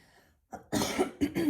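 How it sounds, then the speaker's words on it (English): A person clears their throat close by: a short rough rasp, then a longer gravelly burst and a final cough-like push, with no talking. "Clear my throat before we jump in"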